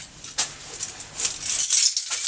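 A set of house keys jangles and clinks in short bursts, picked up while trying to start a Ford Cortina, with a brief rattle near the start and louder shaking toward the end, close by.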